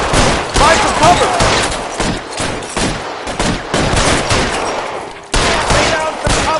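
Rapid gunfire from a PS4 video game sounds in loud repeated bursts and volleys, with short gaps between them, throughout a firefight.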